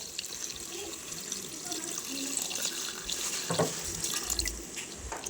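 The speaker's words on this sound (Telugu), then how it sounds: "కూర మునిగేటట్టు ఎసరు పోసుకోవాలి" Water is poured into a pot of village-style country chicken curry to cover the meat, a soft, continuous trickling splash at moderate volume with faint clinks.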